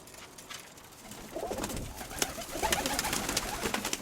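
Young pigeons coo softly and repeatedly, close by, with rustling and faint fluttering in the background; no talking.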